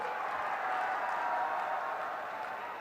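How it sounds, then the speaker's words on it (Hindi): Crowd applause at a large BJP election rally in Ludhiana for candidate Ravneet Singh Bittu, a steady, dense wash of clapping that holds at an even level for the whole span. "रवनीत सिंह बिट्टू के लिए जोर से ताली बजाइए जरा।"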